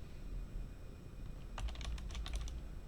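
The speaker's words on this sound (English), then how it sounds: "I'm kind of typing a little bit" Quick bursts of computer keyboard typing, a cluster of crisp clicking keystrokes arriving about halfway through over a low steady hum, close and fairly quiet, with no speech.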